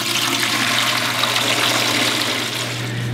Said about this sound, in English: open your utility valve and the water will drain out.